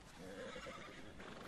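A horse neighs in the online Western game Red Dead Online, a single drawn-out whinny standing close and fairly loud over a busy, steady game background.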